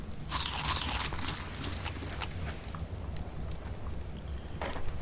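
A character in the video game Ark Survival Evolved eats cooked fish meat, a run of crunchy biting and chewing sounds repeating at a steady pace over a quiet game background.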